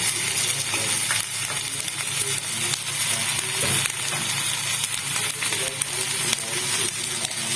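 Ground salt, turmeric, cumin and chili powder frying in a pan for a red lentil dumpling curry, a steady loud sizzle with stirring scrapes running throughout.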